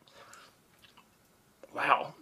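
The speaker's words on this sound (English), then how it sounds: "let me try this inflated gummy worm" A freeze-dried, puffed-up gummy worm being chewed close to the mic: soft crunching and clicking bites, faint at first, then a louder, denser burst of chewing near the end.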